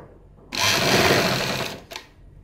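A sewing machine stitches a kurti neckline, running in one loud, close burst of about a second and a half, then a brief second whir before it stops.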